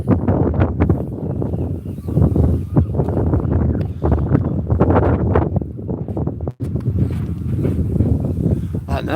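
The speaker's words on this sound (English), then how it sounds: "That wind, God." Strong wind blows across a seaside promenade, buffeting the microphone with a loud, continuous roar and gusty surges, with faint footsteps or rustling beneath.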